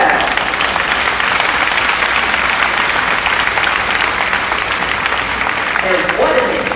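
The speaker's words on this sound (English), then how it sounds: "Let us give them a big round of applause as well." Loud, steady applause from a large crowd at a college commencement ceremony, continuous clapping filling the room throughout.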